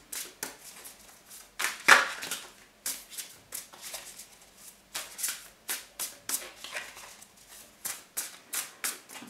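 Tarot cards being shuffled by hand, a run of soft riffling bursts and flicks repeating in quick irregular rhythm, close and quiet with no talking.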